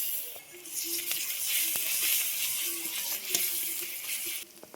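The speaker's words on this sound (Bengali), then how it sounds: "রসুনটাকে ভালো করে ভেজে নিয়েছি" Garlic paste frying with onions, panch phoron and green chili in an oily pan, a continuous moderate sizzle with occasional utensil clicks and stirring, fading out at the close.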